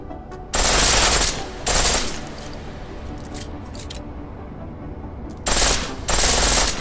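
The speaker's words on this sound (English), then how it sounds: "The pistol in full auto will take down targets fast, but it'll burn through your ammo" Pistol fired on full auto in the video game Deus Ex: Human Revolution, two loud rapid bursts near the start and two more near the end, each about a second long, with a quieter stretch of background game sound between them.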